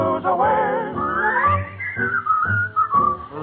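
Melodic whistling carries a song tune in a 1945 radio show, bright sustained notes sliding up and down in phrases with short gaps, set over a soft low accompaniment.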